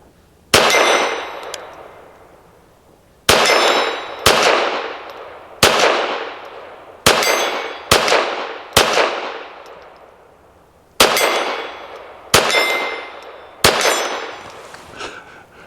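A Hammerli Forge H1 .22 pistol fires at steel targets from about 20 yards, ten sharp shots each followed by a ringing metallic clang, spaced irregularly with some quick pairs, loud and close.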